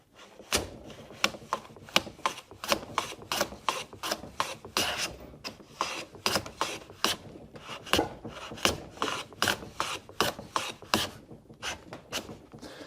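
A Krenov-style wooden shooting plane shaving a piece of beech, rapid rhythmic rasping strokes repeating steadily, close and fairly loud, with no talking.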